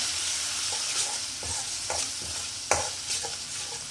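Coriander powder and garam masala are stirred into hot oil for a carrot sabzi, giving a soft, steady sizzle broken by a handful of scraping spoon strokes, one sharper clack near the end.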